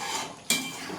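A spoon scrapes through masala paneer in a pan as dry-roasted kasuri methi is mixed in, one short metallic clink and scrape against a faint sizzle, close and brief.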